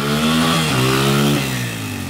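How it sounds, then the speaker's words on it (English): Dirt bike engine revving close by, a buzzy, raspy drone that dips in pitch partway through then steadies, loud and continuous for about two seconds. "My dad's taking a little spin on the dirt bike"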